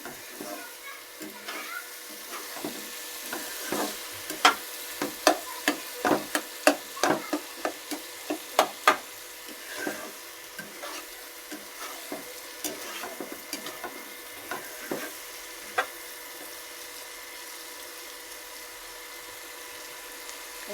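Pointed gourd, potato and jackfruit seeds fry in a pan, a soft continuous sizzle under repeated sharp scraping and clattering strokes of a stirring spoon, busiest in the middle and easing off toward the end.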